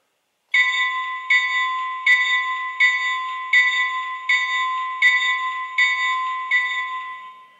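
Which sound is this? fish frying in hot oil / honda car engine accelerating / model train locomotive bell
model train locomotive bell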